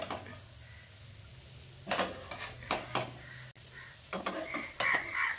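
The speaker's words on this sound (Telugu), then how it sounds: "ఇప్పుడు మనం కట్ చేసుకున్న ఎగ్ అనేది దాంట్లో వేసేసుకోవాలి. ఇప్పుడు ఇది లైట్గా కలుపుతూ ఉండాలి." Chopped egg and onions frying in a pan are stirred with a utensil, giving several close scraping and clinking strokes in short bursts over a soft, steady background sizzle.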